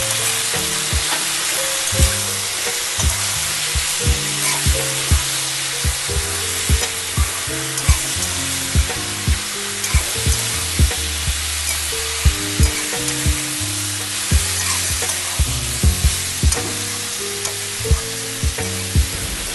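Turmeric, ginger paste and ground cumin sizzle in hot oil in a pan after frying, a steady close hiss punctuated by regular taps and scrapes of stirring throughout.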